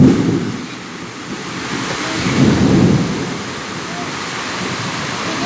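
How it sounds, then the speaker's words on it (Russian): Deep rumbling thunder rolls through a heavy rainstorm, swelling and fading over steady rain hiss and gusting wind, loud and close. "Гром вообще, конечно."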